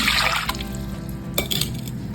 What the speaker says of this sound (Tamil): ஒரு குக்கரில்